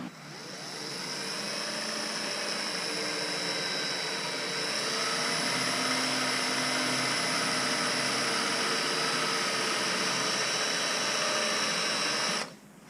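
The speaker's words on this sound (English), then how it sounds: "Here, just drill a hole" A power drill bores a hole while building a box blade cart, its motor holding a steady, high whine for about twelve seconds before cutting off, close and continuous with no voices.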